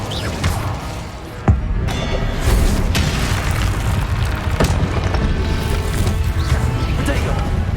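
Confringo and Incendio spell blasts in Hogwarts Legacy on PS5, cast by a Slytherin player during Percival Rackham's Trial, make a dense stream of booming, crackling bursts with a sharp hit near the start, under spoken spell calls.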